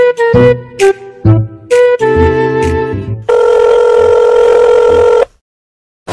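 A cartoon telephone rings loud and close in several short bursts of bright tone. A long sustained ring follows, then the sound cuts to silence.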